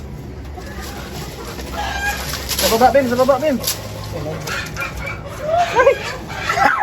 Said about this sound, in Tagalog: Ingay ng manok ah.